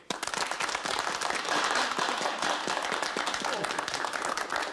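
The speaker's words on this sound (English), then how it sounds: "Applause for the Russian visitor." Dense, sustained applause from a group greeting a Russian visitor in a British wartime comedy scene, a broad crackling wash of claps that starts abruptly and holds steady and loud throughout.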